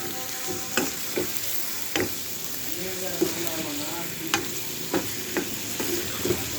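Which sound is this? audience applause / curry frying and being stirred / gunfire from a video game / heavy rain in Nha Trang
curry frying and being stirred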